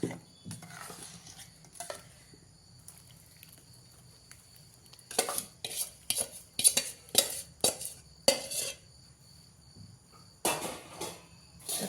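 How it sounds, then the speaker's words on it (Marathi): Spice masala being mixed by hand or spoon into three dozen raw mango pieces for a sweet pickle, heard as a quiet opening followed by a series of close, bright scraping and clinking strokes in an irregular rhythm. "हा थंड झालेला मसाला आता मी कैऱ्यांना लावून घेणार आहे"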